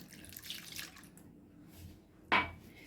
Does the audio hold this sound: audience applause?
no